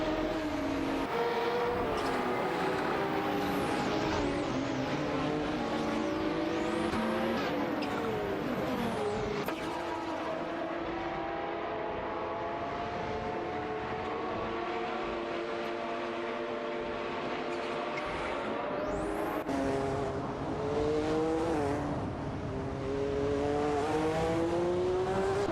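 Race car engines from an AI-driven racing video game whine and climb through their gears in a dense, continuous layered drone, with pitch rising and falling as the cars jostle for position.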